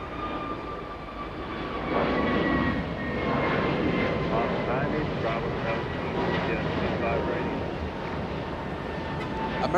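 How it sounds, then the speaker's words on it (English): An American Airlines Airbus A321neo jet at Los Angeles International Airport gives a loud, sustained engine roar with a steady whine that holds through the whole stretch while a voice talks over it. "American 2670 heading to Fort Lauderdale. That's an A321neo."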